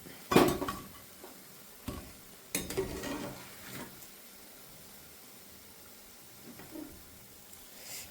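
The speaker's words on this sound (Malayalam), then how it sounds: "ബാക്കിയുള്ളതും ഇതുപോലെ തന്നെ നമുക്ക് പൊരിച്ചെടുക്കാം" Gram flour kebabs being lifted from frying oil, with clinks of a metal spoon against the pan and soft sizzle and stirring noises, mostly faint with a few louder scrapes.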